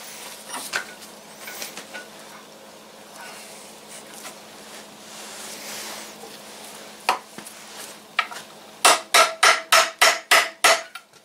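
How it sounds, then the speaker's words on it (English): Hammer striking a punch through a tractor PTO shaft held in a vise, faint clinks and handling noise at first, then a rapid run of about eight loud, ringing metal blows close by. "maybe now that's moved that, I could probably just turn it around in the vise and punch it"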